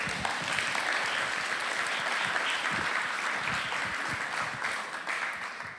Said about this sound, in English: give her a very warm applause